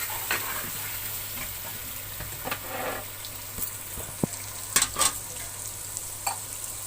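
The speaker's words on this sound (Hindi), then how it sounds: "अब इन आलूओं को मसाले के साथ मिक्स कर लेंगे और थोड़ी देर भून ही लेंगे।" Potatoes frying with spices in a pan for Pakistani aloo gosht, a soft steady sizzle broken by several scraping stirs and clinks of a spoon against the pot.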